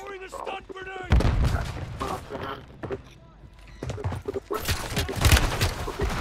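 A stun grenade goes off amid bursts of gunfire in a Call of Duty match, with loud thuds and rapid shots coming in clusters while players talk over the action.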